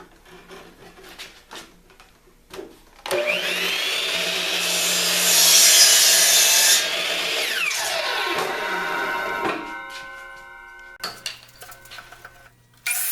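A wooden ceiling rafter support for a dome ceiling frame is cut to a tapered end, with a loud sustained power-saw run lasting several seconds that rises and then falls away, followed by quieter tool handling.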